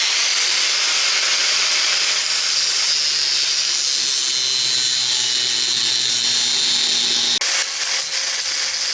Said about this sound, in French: je vais commencer à entailler en dessous comme ça